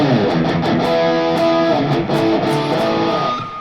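Electric guitar run through a Fractal Axe 8 with a classic rock style tone, playing a busy, crunchy riff of clipped chords and single notes, loud, close and unaccompanied.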